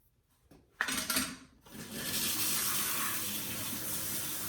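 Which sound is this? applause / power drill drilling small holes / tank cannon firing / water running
water running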